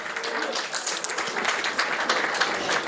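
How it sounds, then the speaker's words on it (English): An audience at a family and friends reunion gathering applauds, a continuous wash of clapping at moderate volume that holds evenly for a few seconds. "Another round of applause for them."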